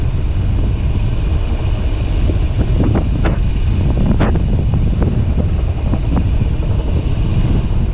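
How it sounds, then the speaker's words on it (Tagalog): Strong wind buffeting the microphone in a loud, constant roar with low rumbling gusts and a few sharper knocks, no voices, on a bike ride on Boracay Island. "lakas ng hangin dito."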